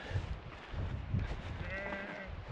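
Faint sheep bleats, wavering and drawn out, rise from a distance in rural Northern Ireland over a low, steady rumble of outdoor ambience.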